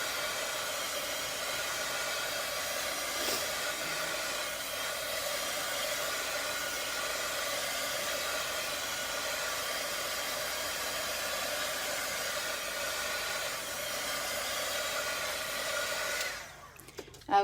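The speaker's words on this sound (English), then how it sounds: "So now I'm going to pull in my heat tool, and I'm just going to get this all dried up." A heat tool blows steadily to dry stencil paint on a distressed flag project, a loud continuous whooshing hiss that runs unbroken and cuts off near the end.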